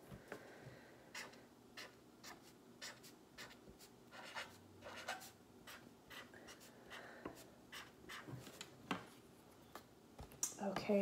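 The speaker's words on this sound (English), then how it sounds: "write my first and last name up at the very top of my paper" A pencil writes a first and last name across the top of a paper worksheet, with soft scratchy strokes and little taps coming in short bursts, quiet and close, with brief pauses between them.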